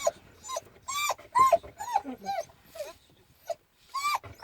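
Several German Shorthaired Pointer hunting dogs whimper, yip and bark in short bursts close by, with brief pauses between the cries.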